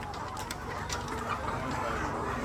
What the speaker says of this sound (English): and very lively birds.